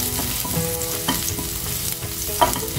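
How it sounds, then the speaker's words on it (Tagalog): Garlic sautéing in hot oil for fried tilapia adobo, with a loud continuous close-up sizzle and repeated clinks of a utensil stirring against the pan. "Gisa na natin ang bawang."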